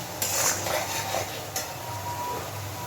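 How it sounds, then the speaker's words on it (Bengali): Spice masala fries in a pan while a spoon stirs it, making scraping and clinking of metal against the pan over a soft, low sizzle. A few stronger strokes stand out. "মশলাটা কষিয়ে নেব।"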